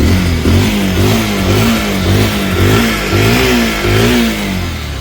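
A Bajaj Pulsar 150 motorcycle showing 27,000 km and in showroom condition revs up close and loud, its engine rising and falling in repeated throttle blips over a steady throb.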